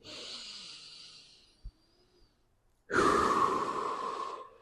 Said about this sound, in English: Take one deep inhale here.